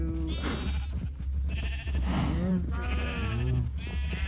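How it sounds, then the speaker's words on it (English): Sheep bleating in Agrarian Skies, a Minecraft modpack, as several short wavering bleats repeat over a steady low game hum, with some voice mixed in. "Let's go ahead and breed the sheep."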